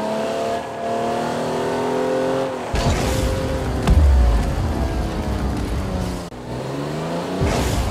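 A car in Rocket League drives and boosts, its engine revving and shifting pitch with tire squeals and sudden bursts of acceleration, loud and close throughout.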